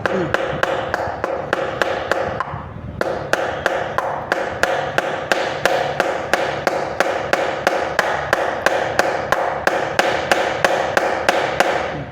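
Hammer blows during electrical wiring work strike in a steady, evenly spaced series of sharp taps, roughly two per second, with a brief pause early on. The hammering is close and alone, with no talking.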